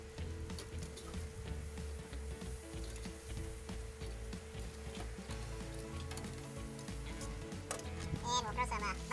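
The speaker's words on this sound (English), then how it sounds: "It's time to give these guys a flip." Sous vide ribs sizzle and crackle steadily on a hot grill as they are turned over, with a close, continuous frying hiss, faint scraping and a voice talking intermittently over it.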